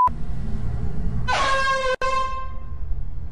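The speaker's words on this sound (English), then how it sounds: "What age is that air horn?" A loud air horn blasts once in a multiplayer video game, a strong sustained honk lasting about a second and a half over steady background noise.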